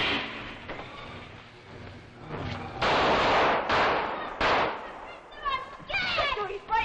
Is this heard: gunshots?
yes